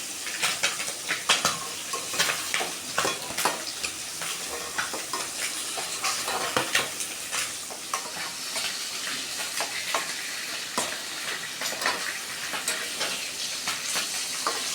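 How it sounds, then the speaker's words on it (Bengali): Pointed gourds (potol) sizzle steadily in hot oil, with a dense crackling hiss and occasional light clinks of a utensil as pieces are lifted out one by one. "এবার এক এক করে পটলগুলোকে তুলে নিব।"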